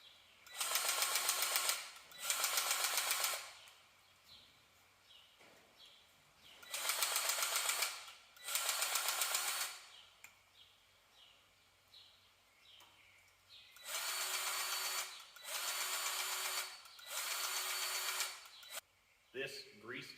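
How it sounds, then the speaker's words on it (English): A grease gun pumps grease into the loader fittings of a Case DX45 or New Holland TC45DA tractor, giving loud broadband bursts of about a second each, grouped in pairs and threes, with quieter gaps between strokes. "You can clearly hear when you're pumping grease and when you're not."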